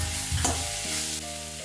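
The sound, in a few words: steamed green peas added to frying vegetables in pan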